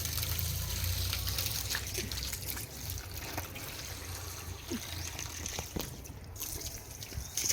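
Water trickles steadily into a container being filled, a soft continuous dribble with faint splashes and occasional small knocks. It sounds fairly quiet and close, and low murmuring is mixed in.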